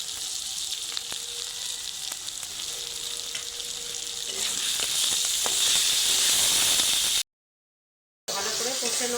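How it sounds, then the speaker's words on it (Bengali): Potatoes with turmeric, salt and spices sautéed in a hot pan for a drumstick (sojne data) dish, a loud continuous sizzle and hiss with occasional stirring scrapes, briefly cut to silence near the end. "এরকম করে কষে আলুটা ভালো করে মশলার সাথে কষে নেবো।"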